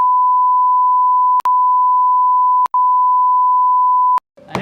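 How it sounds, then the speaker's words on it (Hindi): A steady, loud censor bleep tone runs for about four seconds, broken by three tiny gaps, in a comedy courtroom sketch, then ends in a short burst of noise. "अरे बीप साउंड कहाँ से आ रही है?"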